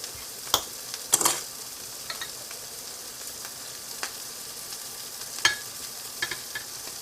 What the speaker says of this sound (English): Let me just empty it in a small bowl here.